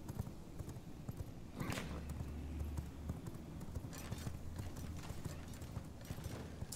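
Rhythmic horse hooves clip-clop in a steady galloping pattern in the video game V Rising, joined by a brief whinny, continuing under a low hum.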